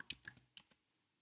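Five quick clicks of keys on a computer keyboard sound close and crisp in an uneven rhythm, then stop, with no voices present.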